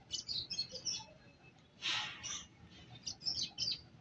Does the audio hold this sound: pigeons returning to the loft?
yes